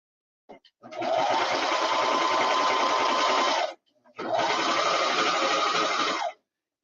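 A sewing machine stitches cord into fabric in two steady, fast-running bursts of about three and two seconds, separated by a brief pause, close and clear with no talk over it.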